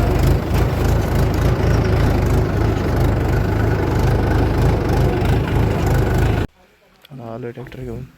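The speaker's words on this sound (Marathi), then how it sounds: "आलो ट्रॅक्टर घेऊन" A tractor engine runs steadily and loudly close by with a low, rumbling idle for about six seconds, then cuts off abruptly and a voice speaks briefly.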